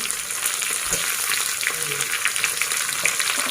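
Chopped tomatoes dropped into onions already frying in oil in a pan, giving a continuous loud sizzle with a few stirring scrapes and clatters, close up and without talk.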